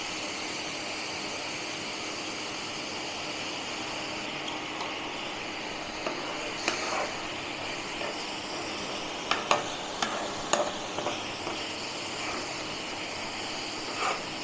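Grated coconut frying in a pan while a spoon stirs it, a steady soft sizzle with a few clicks and scrapes of the spoon near the end, close up and without talk.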